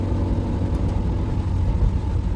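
A Peugeot 206 Type 2 car engine runs smoothly with a steady low rumble at an even level, heard from inside the car while driving in rainy weather.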